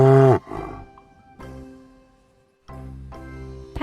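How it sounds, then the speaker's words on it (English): A cow moos loudly and close, with a short low call followed by a longer drawn-out moo after a pause, heard on its own. "Cow says moo moo."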